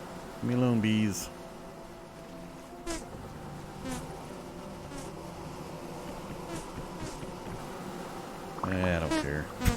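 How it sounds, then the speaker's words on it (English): Angry bees buzz steadily throughout in the survival game Vintage Story, a close insect drone running under the whole stretch, with brief bursts of game sounds and short voice-like cries near the start and end. "Leave me alone, bees."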